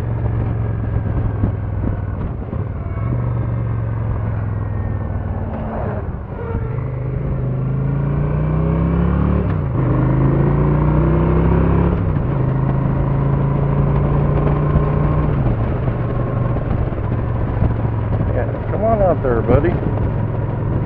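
A motorcycle engine rumbles steadily with shifting revs while riding over gravel through road construction, tires crunching under constant wind noise and a voice speaking over it.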